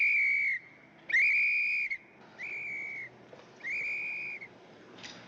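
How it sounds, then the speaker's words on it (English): Police whistle blown in a series of four shrill, sustained blasts, each lasting under a second with short gaps between, heard fairly distant and alone. "Isn't that a police whistle?"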